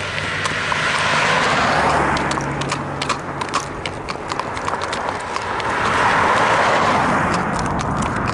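Horse hooves clip-clopping on a road while a car passes, rhythmic hoof strikes over a swelling and fading vehicle rumble; the horse is a stout Belgian Morgan crossbreed mare.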